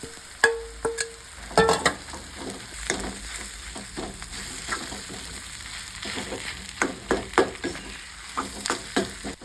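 Chili powder and paneer are stirred in a pan with a gentle sizzle. A spoon scrapes and taps the metal in irregular strokes, fairly close, with no talking.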